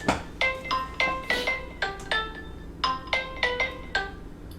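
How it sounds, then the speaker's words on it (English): A mobile phone ringtone plays nearby, a bright chiming melody of repeated rising tone bursts in a steady rhythm, with no one talking. "My phone started ringing."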